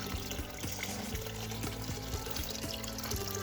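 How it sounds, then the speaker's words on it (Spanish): Steady rushing water from a garden pond waterfall pours continuously, a full, close splashing wash with no voices. "la cascada"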